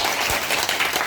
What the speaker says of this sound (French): Il faut les applaudir très fort.